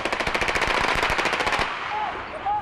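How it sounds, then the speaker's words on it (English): Rapid bursts of gunfire from a police shootout with a gunman on a hostage bus in Manila, captured on a live TV broadcast: a quick string of loud cracking shots for about a second and a half, then a fading echoey tail. "He eventually exchanged gunfire with police and was shot dead."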